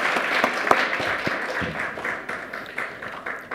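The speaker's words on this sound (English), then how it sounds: "Let's give him another round of applause." A conference audience at a tax justice session gives a round of applause, a moderate burst of clapping with distinct sharp claps standing out early and tapering slightly toward the end.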